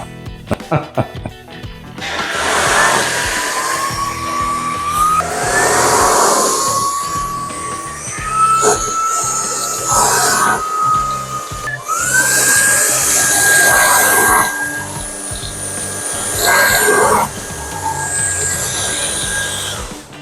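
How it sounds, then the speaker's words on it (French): A Dreame Z20 cordless vacuum cleaner running a turbo brush over carpet gives a loud, whining motor drone that wavers in pitch as it is pushed back and forth, with a voice talking over it. "Maintenant le voici avec la turbo brosse sur le tapis et on va voir son efficacité."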